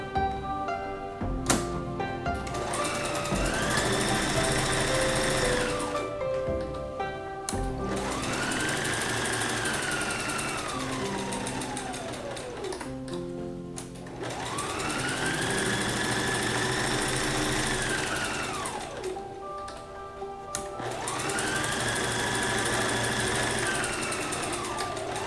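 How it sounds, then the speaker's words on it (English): A sewing machine runs steady straight stitches through olefin face mask fabric, close and continuous, in long bursts of several seconds separated by brief pauses as the machine stops and restarts. "sew it with the olefin on the back side of the material, so completely around"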